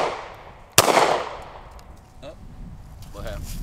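A 10mm Hi-Point JXP carbine fires one loud, sharp shot outdoors that rings off into a fading tail, followed by brief, faint voices.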